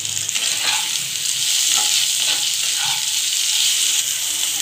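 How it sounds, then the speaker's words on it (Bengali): Potatoes fry in a pan with green chili and ginger paste, a steady close sizzle with a few soft stirring scrapes throughout. "আলুগুলো ভেজে নেব।"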